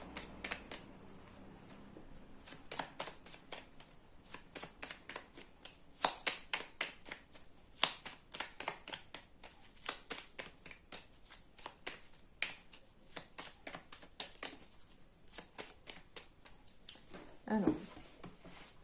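Deck of playing cards being shuffled up close, with quick riffling bursts and sharp snapping flicks repeating steadily, with speech present.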